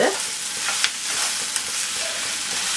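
A ground paste of ginger, garlic, cinnamon, cloves and stone flower sizzles loudly in hot oil for a mushroom gravy, with a couple of spoon scrapes against the pan over a continuous close hiss.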